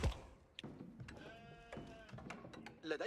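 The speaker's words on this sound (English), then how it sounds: "There's sheep right here." Sheep in the Age of Empires video game bleat in short calls amid game sounds and clicks, heard under a player talking.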